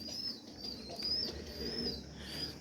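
Pet pigeons coo softly indoors with low, murmuring calls, fairly faint and continuous over a quiet room background.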